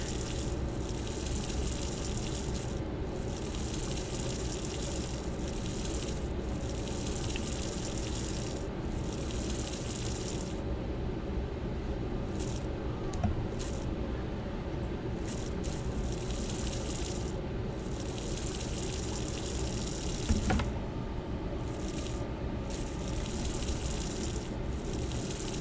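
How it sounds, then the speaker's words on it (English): Plants are watered in the video game Strange Horticulture, a faint, steady trickle and gush of water that runs for a long stretch with small pauses and a couple of soft knocks. "Okay, I should probably water my plants."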